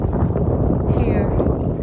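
Strong wind sweeps across a lake at Shoreline, San Jose, buffeting the microphone with a constant low rumble, and voices are faintly audible beneath it.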